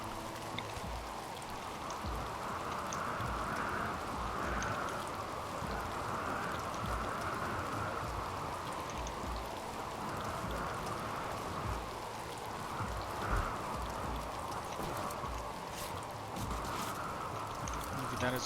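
Steady rain falls in a Neolithic tribal settlement game, a dense even hiss that continues for the whole stretch, moderately loud with no breaks.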